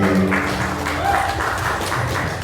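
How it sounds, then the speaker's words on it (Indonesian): Applause at a press conference in a Bandung warehouse, a moderate, steady patter of clapping with voices and tonal sounds underneath. "terima kasih tepuk tangan dong"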